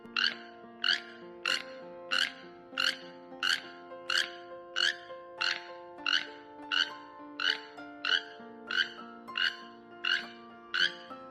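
A toucan's repeated croaking call sounds about once a second, steady and rhythmic, over a soft background of sustained tones.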